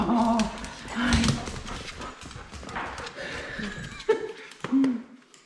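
A dog whimpers in short high whines, several thin tonal cries repeated across the stretch, mixed with shuffling and scuffing noises nearby.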